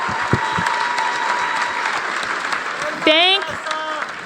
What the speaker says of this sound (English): can I get one last round of applause for all of our candidates for being here tonight?